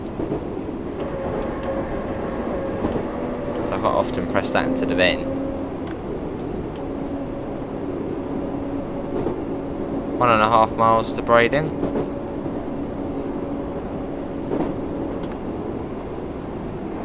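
A Class 484 electric train on the Isle of Wight line in Train Sim World 2 hums steadily in the cab with a sustained motor whine, while someone talks over it and a horn sounds twice.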